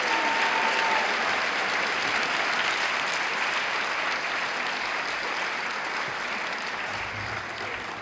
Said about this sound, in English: I will ask for one more round of applause